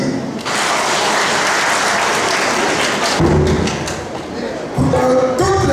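A crowd at a political gathering for communal election preparations applauds loudly and steadily, with broad dense clapping that fades as a voice begins to speak near the end.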